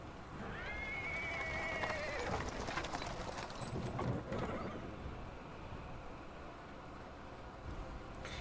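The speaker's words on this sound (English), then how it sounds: "He is interrupted by the sounds of wheels rolling the paved stones. A cart drawn by a sad little horse appears from around the corner." A small horse pulls a cart over paved stone streets in the Pathfinder: Wrath of the Righteous game, with a loud whinny near the start followed by steady clip-clop hooves and rolling, rumbling wheels close by.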